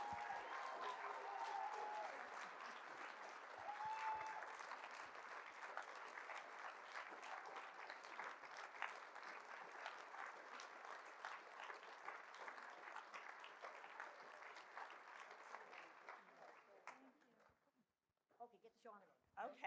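An audience at a campfire-themed gathering gives a long round of applause honoring two colleagues, dense sustained clapping that gradually thins and fades out, leaving a few scattered claps and faint rustling at the end.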